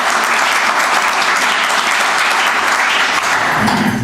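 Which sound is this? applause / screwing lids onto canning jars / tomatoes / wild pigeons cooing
applause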